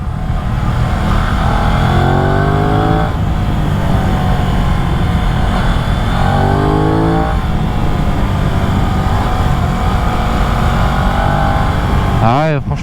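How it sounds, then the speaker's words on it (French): An Aprilia RS660 motorcycle is ridden on a road, its engine droning steadily with rising and falling revs through gear changes, loud and continuous under heavy wind rush, with a rider talking over it. "On est vraiment là juste pour faire un petit test tranquille de la moto."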